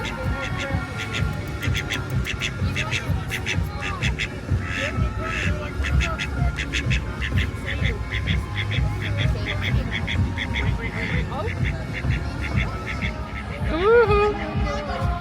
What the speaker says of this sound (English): Oh, Disney duck! Disney duck!